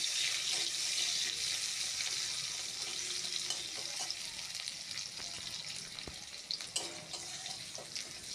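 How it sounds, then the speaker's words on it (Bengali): Steady crackling sizzle of potatoes frying in oil, with occasional clinks and scrapes of stirring throughout. "তো সেই আলুগুলো এবারে তেলেতে মা ভালো করে উল্টে পাল্টে লাল লাল করে ভেজে নিচ্ছে"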